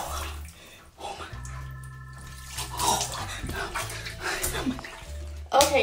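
A cup of ice water splashes down over a person sitting in a freezing cold ice bath, brief watery pouring and dripping up close amid the person's voice.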